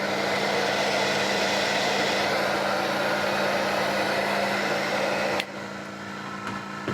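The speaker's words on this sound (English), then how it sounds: "And we're going to take this heat gun." A heat gun blows steadily on a coated glass piece, a constant loud fan-and-heater whoosh that drops abruptly near the end as it is switched down, with no talk.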